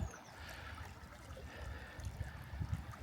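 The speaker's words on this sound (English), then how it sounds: "you can see how the water rushes down there" Water in a seasonal creek rushing downhill, a steady low broadband wash that stays close and continuous, with a faint high whistle near the start and louder surges toward the end.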